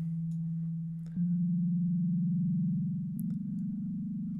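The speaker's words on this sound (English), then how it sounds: "again we start with a sine wave" A steady synthesized sine wave tone from the Wotja music app holds one low pitch, with slight shifts in pitch and texture partway through. The tone is clean and sustained, with no voices.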